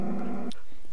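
A tamed Minecraft wolf-dog gives a short, loud growl lasting about half a second, followed by near silence with a faint trailing sound.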